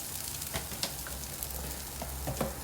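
Grated coconut sautéing in a pan with spluttering black pepper and cumin, a quiet steady sizzle broken by small irregular pops and crackles, no talking.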